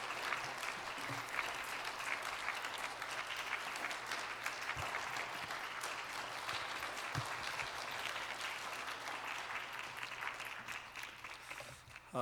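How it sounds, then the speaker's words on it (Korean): Steady applause from a church congregation at a Friday evening service welcoming a guest pastor, sustained for about twelve seconds at a moderate distance with no speech over it. "우리 박수로 모시겠습니다."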